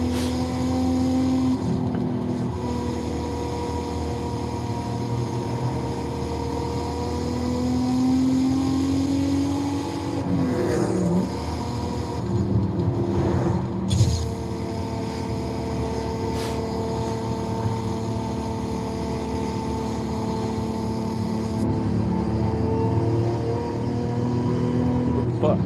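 A car engine cruising in Forza Horizon 5, a steady droning hum with harmonic whine that dips and rises around mid-clip gear or speed changes, with a person talking over it.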